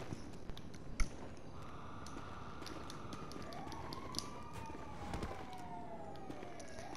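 An ambulance siren wails in a video game, a faint rising and falling tone sweeping on in the background under a steady noisy bed, with a few soft thumps.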